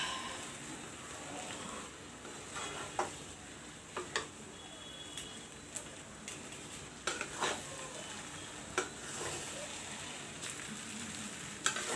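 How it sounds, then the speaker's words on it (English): Tomato rice being stirred and mixed in a hot pan, a continuous sizzle with repeated scraping clicks and taps of the spoon against the pan at an irregular rhythm, close and moderately loud. "Mix the rice well with the tomato in it."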